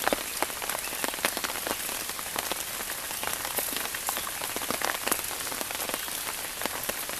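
Steady rain falls on trees and a built-in tarp shelter, a dense continuous patter of close drops tapping the fabric with no voices.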